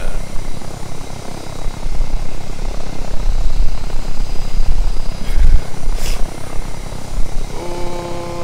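An aircraft in the video game ArmA 3 flown like a plane, a loud, close, continuous rotor-like engine drone that swells and thumps through the middle, with a brief tonal beep near the end.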